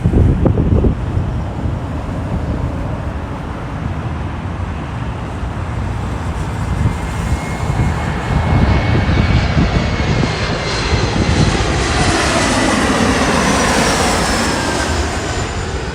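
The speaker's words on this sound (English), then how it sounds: "Aircraft you'll see, Alaska SkyWest E175." An Alaska Airlines Embraer E175 jet operated by SkyWest roars steadily at Los Angeles International Airport, loud and continuous for the whole stretch with a rising whine toward the end, plus some wind buffeting on the microphone.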